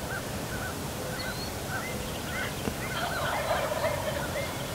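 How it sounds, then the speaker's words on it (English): Wild turkeys gobbling along a ridge in spring, several rattling gobbles rolling in from a distance over steady outdoor background noise, growing busier toward the end. "There are turkeys all the way across this ridge."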